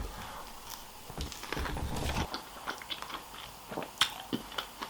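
Close-up biting and crunchy chewing of a takeaway wrap filled with salad and red onion, a run of wet, crisp crunches and mouth sounds, with no talking.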